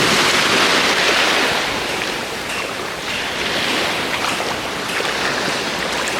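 Sea waves wash against the shore at Koh Sichang island in Thailand on a calm day, a loud continuous surf roar mixed with gusty wind buffeting the microphone, with no voices.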